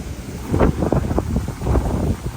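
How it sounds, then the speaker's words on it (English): Strong hurricane wind buffets the microphone, giving a loud, rumbling roar with gusty surges throughout. "If it's super windy out here, it might just be all wind."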